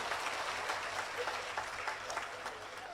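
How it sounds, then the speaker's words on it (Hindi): A crowd claps for a comedy poetry show at a Holi celebration, a fairly faint, distant, even patter of applause that lasts the whole stretch without talk. "एक बार ताली बजाओ तो मैं शुरू करूं आपके बीच में"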